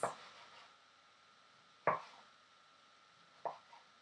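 A knife chops down through a tomato onto a cutting board, slicing off the top and bottom: three separate crisp thuds spaced over a few seconds, close and clear against near silence.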